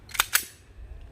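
A rifle fires at a self-sealing reactive target: two sharp cracks in quick succession, close and loud, with no talking.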